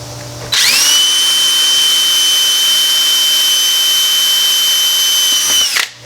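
A power drill widens a 3/16-inch hole in plastic for mounting a tweeter in a Toyota Tacoma, giving one steady, loud high whine for about five seconds that starts abruptly and winds down at the end.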